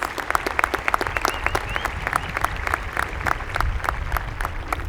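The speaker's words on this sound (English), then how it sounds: "Please give them a round of applause." Audience at the 2025 Shawnee Mission East high school graduation giving a round of applause: dense, steady clapping from a large crowd that fills the hall for several seconds without letting up.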